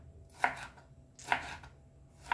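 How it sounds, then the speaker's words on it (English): A knife chopping a tomato into slices on a cutting board, three crisp evenly spaced cuts roughly a second apart, close and clear against a quiet room. "So next we'll chop our tomato."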